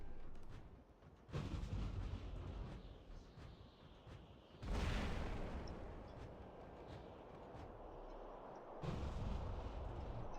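A long-range robot weapon fires in the War Robots video game at around 600 meters, giving several heavy booming shots spaced a few seconds apart over a low rumbling background.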